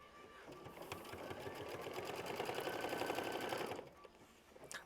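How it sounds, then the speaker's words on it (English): A sewing machine runs a steady stitch through quilt-block fabric for the Hoop Sisters sampler, its rapid needle rhythm loud and close for about three seconds before stopping. "we're going to lower our foot and sew"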